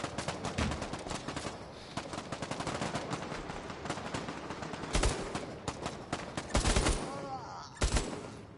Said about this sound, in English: I'm shooting this guy right here.